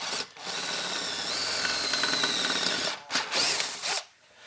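Power drill boring a test hole in a metal amplifier chassis, a loud steady whine with faint scraping that cuts off near the three-second mark, followed by brief bursts of drilling.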